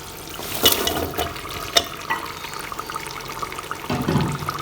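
Potatoes tumbling into a pan of achari keema, a few close clattering thuds as they drop, followed by a rough steady sizzle and rustle, with no talking.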